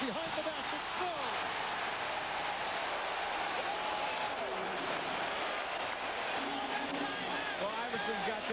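Basketball arena crowd at a Pacers vs 76ers game cheering for Iverson, a steady dense roar that fills the whole space, with voices rising out of the noise and a commentator talking over it.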